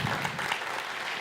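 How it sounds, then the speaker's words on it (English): Symposium audience gives a warm round of clapping, a brief, even wash of many hands at moderate distance, with no talking. "allow me to give you a very, very warm hand of applause"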